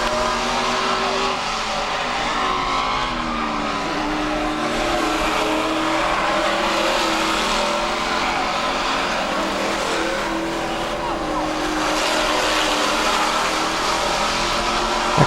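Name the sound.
race cars racing into the corners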